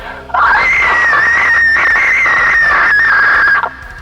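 One long, loud, sustained vocal scream, lasting over three seconds, run through a gritty lo-fi reverb effect that makes it sound thin and distorted.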